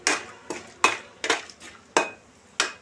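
Cashews fry in oil and ghee with spices while a spoon knocks against the pan in a steady rhythm of about six sharp clinks, close up and with no talk.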